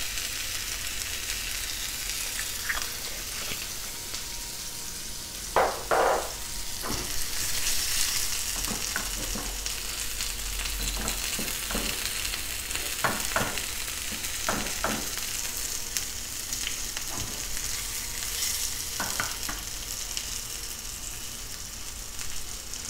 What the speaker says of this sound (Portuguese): Vou dar uma leve refogada no pimentão.